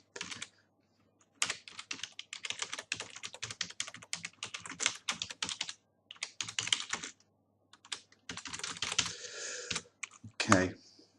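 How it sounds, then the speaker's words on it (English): Fingers typing on a computer keyboard in bursts of rapid, close key clicks separated by short pauses, with faint background room tone. "If I can type."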